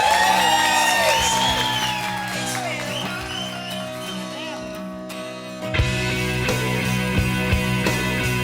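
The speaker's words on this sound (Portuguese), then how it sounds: "aplausos." Guests at a 2025 wedding whoop, shout and cheer in a loud, sustained crowd roar with scattered applause, mixed with music, ending in a sharper burst of clapping.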